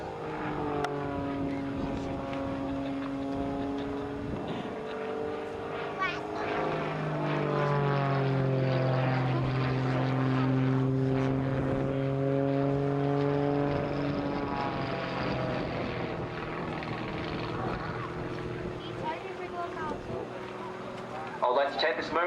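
A Grob Tutor propeller plane flies a display at the Southport airshow, its engine drone rising and falling in pitch as it passes overhead, while an announcer talks over it.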